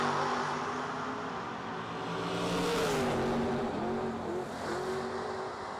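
Engine note of a race car at a vintage motorsports event, accelerating down the track on a timed lap, a sustained roar that rises and dips as it passes, with no speech.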